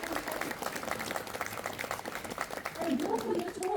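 Audience applause at a campaign launch in Palmerston North, a steady patter of many hands clapping at moderate volume, with a voice speaking over the end.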